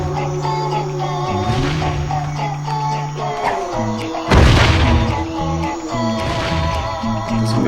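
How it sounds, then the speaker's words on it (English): Explosions in the video game Crash Twinsanity: a deep booming blast about midway, with smaller thuds and bangs scattered among the game music and effects, loud and close. "Why are they exploding all of a sudden?"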